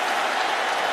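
Steady, loud applause from the LSU bench and crowd after a 19-yard completion in the 2012 BCS National Championship Game against Alabama, a continuous wash of clapping with no clear voices.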